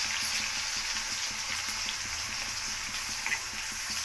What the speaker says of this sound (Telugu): ఎర్రగా కాయాలండి ఎర్రగడ్డలు.